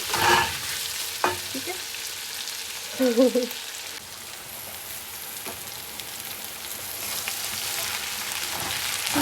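Carrots, capsicum and onion being stir-fried in a pan, with a steady low frying hiss, a few utensil clinks and a short scraping stir near the middle, while a voice speaks briefly.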